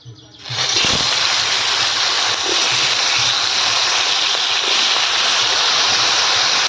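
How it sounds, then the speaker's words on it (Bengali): Loud, steady sizzling and crackling of large crabs frying in hot oil, a dense hiss that starts abruptly and continues without pause. "তেল আমাদের গরম হয়ে গেছে এবার এই কাঁকড়াগুলোকে ভেজে নেব"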